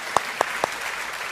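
A few sharp handclaps from a TV debate-show studio audience welcoming two panelists, three crisp isolated claps in quick succession, then a steady low room hiss.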